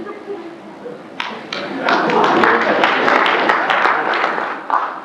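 Audience applause at a poetry reading in Bellingham, starting with a few scattered claps and swelling into fuller, steady clapping before tapering, with some voices underneath.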